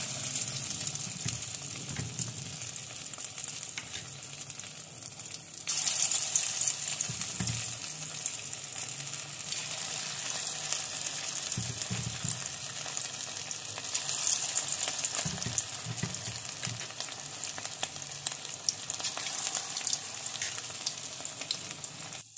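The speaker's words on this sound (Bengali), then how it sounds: "তেল গরম হয়ে গেছে, এবার আমি একটা একটা করে দেবো।" Spoonfuls of chicken pakora batter fry in hot oil with a soft, continuous sizzle, brightening in two surges as more batter is dropped in, along with occasional low clatters of a spoon.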